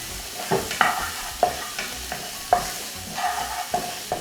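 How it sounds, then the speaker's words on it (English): Garlic cloves sauté in a pan under a low sizzle, with a spatula scraping and tapping against the metal in an irregular rhythm of sharp strokes, close and free of talk. "I'll also throw in some garlic cloves. And saute until it's fragrant."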